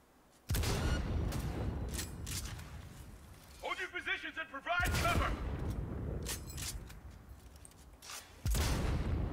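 Gunfire in Cyberpunk 2077 crashes in as loud, sudden bursts of booming shots, a fast rattling volley in the middle and a final blast, with someone talking between the shots.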